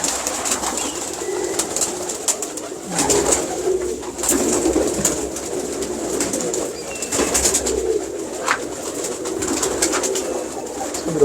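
Continuous low cooing from a flock of almari pigeons at a loft, steady and fairly close, with occasional brief bird calls rising above the murmur.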